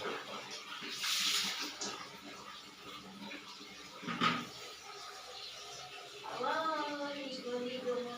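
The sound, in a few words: bath water running while bathing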